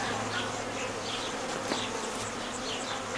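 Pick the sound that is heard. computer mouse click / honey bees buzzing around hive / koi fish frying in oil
honey bees buzzing around hive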